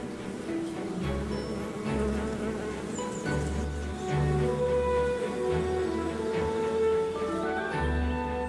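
Bees buzzing in a garden, a close, continuous droning hum with several overlapping tones that rise and fall as the insects move about, with no talking.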